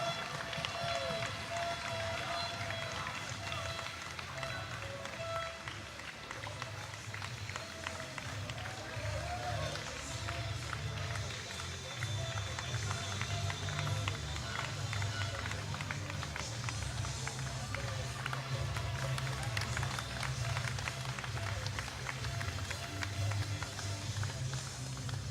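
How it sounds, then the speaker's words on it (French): A large crowd claps steadily and continuously throughout the 2016 European League trophy ceremony in Rethel, a dense wash of applause with a voice talking over it. "sur les applaudissements de la foule"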